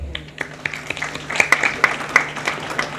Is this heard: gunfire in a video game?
no